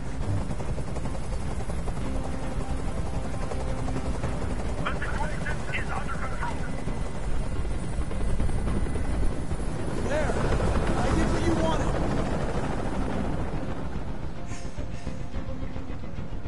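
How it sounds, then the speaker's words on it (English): A helicopter drones overhead in a Detroit hostage standoff, a continuous low rumbling roar holding steady throughout, with voices talking faintly underneath. "Tell that helicopter to get out of here"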